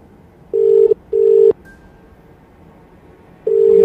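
Telephone ringback tone heard after dialing a number late at night: two long steady rings in quick succession, a pause with a faint thin tone, then a third ring starting, clear and alone with no talking.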